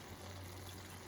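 Soy sauce trickles steadily into a cooking pot in a thin, continuous pour, faint and alone without any speech.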